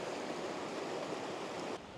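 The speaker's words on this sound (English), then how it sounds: "Beautiful little cascading falls" A small cascading waterfall in Duck Creek on the John Muir Trail rushes in a steady, broadband hiss up close, alone without voices, dropping slightly in level at the very end.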